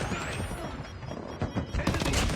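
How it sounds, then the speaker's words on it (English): Fireworks go off in the Call of Duty video game as a rapid, dense volley of crackling bangs, with sharper bursts late in the stretch. "there's the fireworks. 2022."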